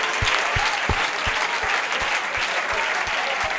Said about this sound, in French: Apparemment, ils acclament pour vous.